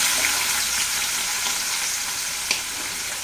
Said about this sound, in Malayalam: എണ്ണ ചൂടായി കഴിയുമ്പോൾ ഇത് ഉള്ളി, പച്ചമുളക്.